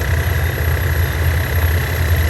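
Old GEK 4045 diesel locomotive idling at a junction station, a steady deep rumbling throb with a low pulsing beat, close and loud, no talk.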